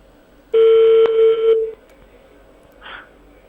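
Ringback tone on an unanswered call to an emergency number of Pakistan International Airlines: one loud, steady electronic ring lasting about a second, then a pause and a faint short blip, with no voices.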